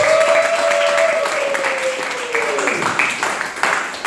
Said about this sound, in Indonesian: Sekali lagi tepuk tangan buat Anda semuanya.